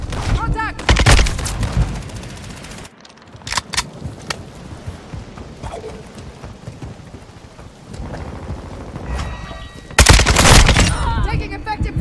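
Gunfire in the video game Modern Warfare 2 during a Hardpoint match on a lighthouse map, with loud sharp bursts of shots at the start and again near the end, separated by quieter rattling battle noise.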